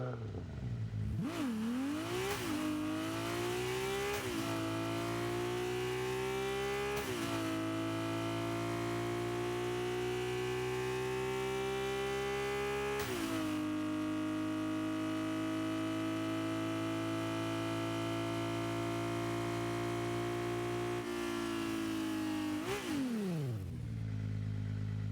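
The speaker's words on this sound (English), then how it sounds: "here is the engine sound" Ferrari 296 GTB engine in the video game Rocket League, revving repeatedly with rising and falling pitch, holding long sustained tones between throttle blips, loud and steady with no talk over it.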